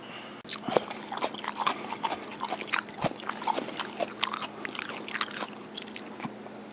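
Close, crunchy chewing of raw kohlrabi and carrot slaw, with rapid repeated bites and crunches over several seconds and no talk.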